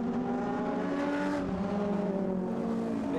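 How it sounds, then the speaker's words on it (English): Race cars take Eau Rouge at the Spa circuit, making a continuous loud engine drone with rising and falling pitch throughout. "as the cars make their way through Eau Rouge a little bit further back"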